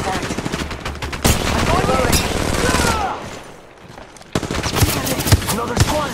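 Rapid bursts of automatic gunfire in the Apex Legends Mobile battle royale shooter, sharp repeated shots in clusters with a short lull midway, mixed with game sound effects and a player's voice calling out.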